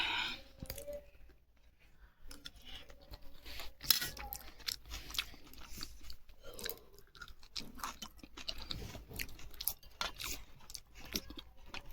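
Crunchy chili pickle eaten up close, with irregular crisp crunches and chewing sounds throughout, some sharp bites, and faint background noise and no clear talk.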